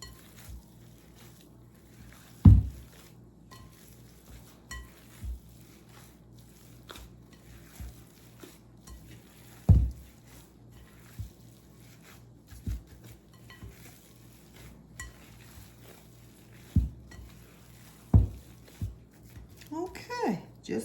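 Meatloaf mixture with a cup of mozzarella cheese being mixed together in a bowl, giving soft squishy stirring and occasional louder clanks of utensils against dishes, with a low hum beneath.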